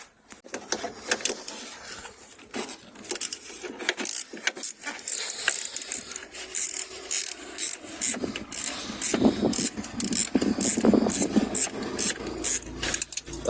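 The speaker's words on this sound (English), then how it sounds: "then just undo this via a 13mm socket" Ratchet with a 13mm socket undoing an alternator bolt on a Mercedes CLK 320, giving close, irregular metallic clicks and scrapes with small bursts of tool handling and no speech.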